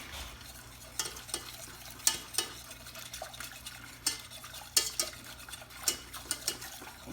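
Plantain au gratin mixture whisked in a bowl, quiet irregular metallic taps and scrapes of the whisk against the sides, a dozen or so clicks over a soft background.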